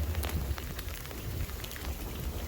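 Steady heavy rain pours outdoors during a week of downpours, a dense continuous hiss of drops pattering on surfaces, loud and close with no voices.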